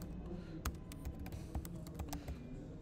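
Typing on a computer keyboard while writing a post, a close, steady run of quiet clicking keystrokes with a few sharper key hits.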